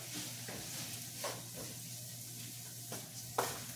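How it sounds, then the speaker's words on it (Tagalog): Garlic sizzles in hot oil in a pan for spaghetti sauce, a steady close frying hiss with a few brief stirring scrapes and clinks along the way. "The oil is hot already. Then we're gonna put this garlic."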